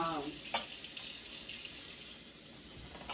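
Kitchen tap left running into a sink while the water warms up, a steady close hiss of flowing water with no talk over it.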